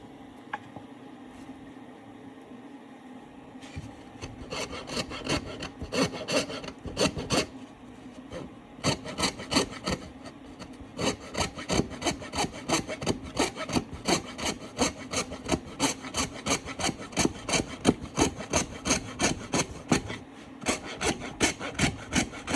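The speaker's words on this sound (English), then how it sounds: "Coping saw is made for trim work in houses, for the trim that goes around the baseboard" A coping saw cutting through wood along a marked line, with steady rhythmic back-and-forth rasping strokes that start after a few quiet seconds and grow louder and quicker, heard close up with no speech.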